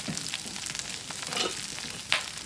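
Broccoli seasoned with garlic powder sizzles and fries in a pan over high heat, a steady close crackle with a few brief stirring scrapes and one sharp clink near the end.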